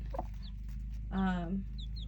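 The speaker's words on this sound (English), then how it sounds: "We moved her over here with the 3 chicks." A hen with three newly hatched chicks in a nest box, giving one soft, low cluck close by, with a few faint high chick peeps around it.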